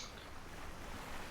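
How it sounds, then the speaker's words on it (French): Ocean waves at sea past the Canary Islands, heard from a boat under way: a steady broadband wash of surf and rushing water with some wind noise, moderately loud and continuous, no voices. "il y a pas mal de vagues actuellement"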